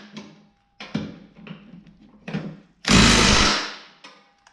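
Parts are bolted down on a John Deere X300 mower deck with a power tool, heard as several short close bursts and then one longer, loud whirring run.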